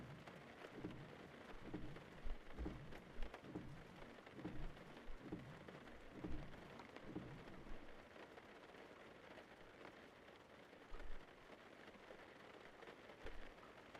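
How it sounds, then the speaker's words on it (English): Steady rain falling outdoors, a soft continuous hiss of drops with faint low rumbles, heard alone at low level without any voices. "find something very peaceful about listening to rain."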